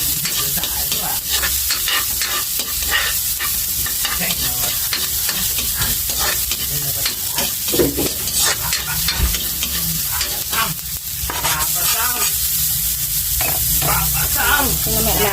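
Garlic and onion frying in a home kitchen pan, sizzling loudly and continuously while a utensil stirs and scrapes through them with repeated clatters, with faint voices in the background.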